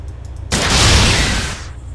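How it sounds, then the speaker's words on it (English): A sudden loud blast erupts after a brief lull and rolls on as a roaring burst for over a second before fading, heavy combat fire aimed at players in ArmA 2. "They're shooting at us."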